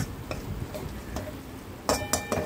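Chili powder and coriander-cumin powder sauté in a pan with a soft, faint sizzle, broken by a few light scraping and stirring taps of a spoon against the pan.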